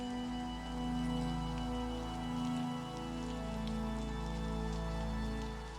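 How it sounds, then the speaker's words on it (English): Steady rain falls outside a window at a slow, even pace, a soft continuous patter with faint scattered drops over a low ambient hum, no voices present. "Just this steady settling while the rain keeps going beyond the window."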